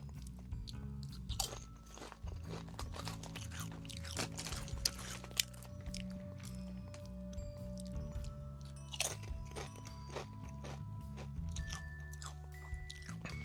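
Close, steady crunching and chewing of Quest tortilla-style protein chips, a continuous run of crisp bites and grinding mastication carrying on for many seconds with no talk.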